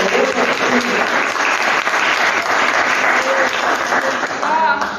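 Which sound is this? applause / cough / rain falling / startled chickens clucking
applause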